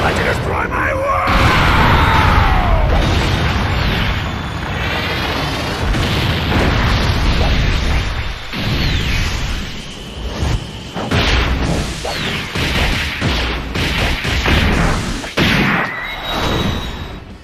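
God Goku's active skill attack in Dragon Ball Z Dokkan Battle erupts in a long, loud barrage of booms, whooshes and crashing impacts, with sweeping energy tones and a shouted voice mixed into the dense battle effects.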